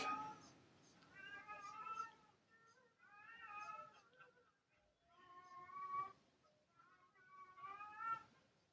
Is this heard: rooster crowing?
no